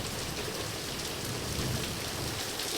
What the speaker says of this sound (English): And we have that beautiful thunder again.